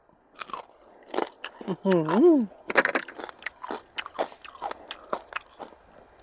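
Crispy fried pork belly bitten and chewed up close, a series of crunchy bites and crackles spread across the clip, mixed with a voice murmuring and a short hum.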